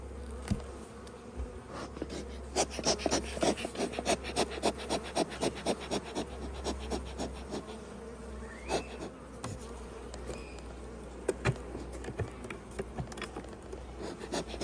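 A dense, steady buzzing of many honeybees at the hive during varroa mite treatment fills the air, with faint scratchy rustles and occasional louder passes close by.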